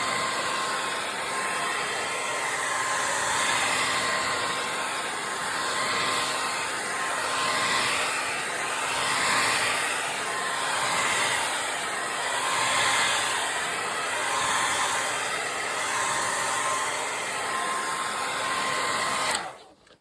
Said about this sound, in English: Hit it with the hairdryer just a little bit more.